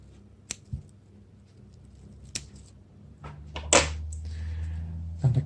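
Scissors snip through the stem of a Hypoestes White cutting during indoor plant propagation. A few sharp, close clicks and snips sit in a quiet room, followed by rustling and handling of the plant.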